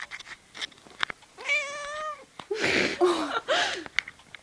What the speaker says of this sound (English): You're gonna make it meow really weirdly.